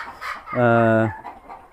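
A black hen on a farm gives a single drawn-out cluck, clear and fairly close, with faint background noise around it.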